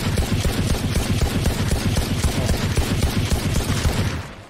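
Rapid bursts of gunfire in the video game Valorant crackle continuously and loudly, dense and layered like a sustained firefight, fading out at the very end.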